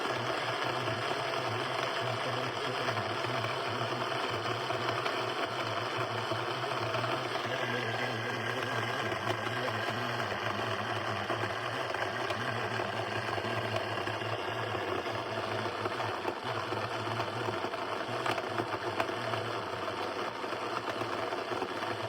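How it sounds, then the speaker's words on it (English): An electric grinder pulverises yellow bee pollen pellets into fine dust, giving a steady, unbroken motor whine and buzz that holds at an even level for over twenty seconds with no speech. "I'm gonna grind these to a pulp. For a very fine dust"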